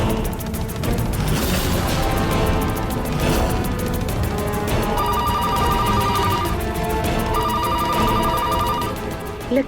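A telephone ringtone announcing an incoming call sounds in a household scene, a repeating melodic ring that comes in two bursts over steady background music.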